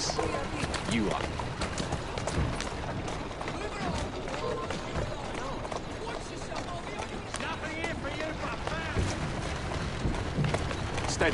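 Horse hooves trotting in the Assassin's Creed Syndicate video game, a continuous rhythmic patter of footfalls under busy game sounds and talking throughout.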